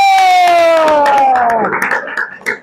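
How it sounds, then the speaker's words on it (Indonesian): Children in a classroom group session clap and cheer together after a presentation, with a sustained high voice or tone gliding downward over the start and scattered claps and shouts building near the end. "Kita kasih tepuk tangan terlebih dahulu."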